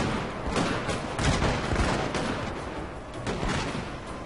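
Massed musket volleys in the Shogun 2 Total War battle game, dense crackling gunfire rolling in waves at a distance, loud and continuous.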